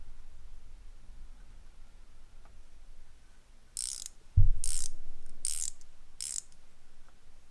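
An 8mm Craftsman ratcheting combination wrench gives a few quick bursts of crisp, close clicking after a soft knock, with a light room hiss between them and no talking.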